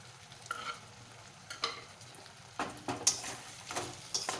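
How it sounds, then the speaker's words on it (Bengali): Spice masala with chopped tomato being stirred in a pan: intermittent scraping strokes of a spoon over a soft steady sizzle, close and fairly quiet, with no voices. "কিছুক্ষণ ধরে একটু নেড়ে চেড়ে নেবো মশলাটা"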